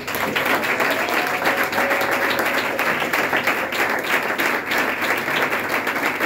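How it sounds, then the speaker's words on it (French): Congregation applauding during a church sermon, dense steady clapping from many hands that fills the room loudly and evenly throughout, with no talk over it. "Acclamons pour ce monsieur"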